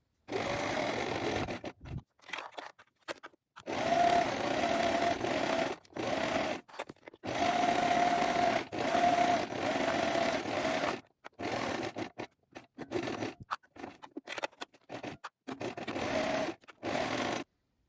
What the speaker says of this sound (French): Vous allez coudre les côtés et le bas à 1 cm